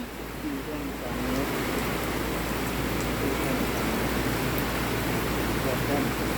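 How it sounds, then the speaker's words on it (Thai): Steady rain falling outdoors, a dense even hiss with low rumble beneath, continuous and fairly loud throughout. "อ่ะฝน ตก พี่ น้อง เอ้ย บรรยากาศดีมื้อนี้"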